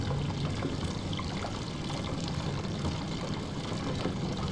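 Rising water pouring in the video game The Door in the Basement, a loud, steady rushing flow that continues unbroken from start to finish.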